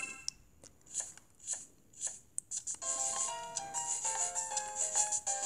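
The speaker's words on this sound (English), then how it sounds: "We're cutting it into thin little slices." Crisp, rhythmic slicing of sea bream with a sashimi knife in Cooking Mama 2 on the Nintendo DS: a few sparse, sharp strokes, then faster repeated cuts with bright chiming game tones layered over them.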